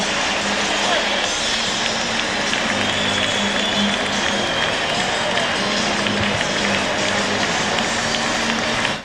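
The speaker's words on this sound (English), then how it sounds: "Back on their feet at the stadium. The crowd likes it." A 1992 NBA playoff crowd at Chicago Stadium during Bulls versus Cavaliers roars and applauds in a loud, continuous wash of cheering, with a commentator talking over it.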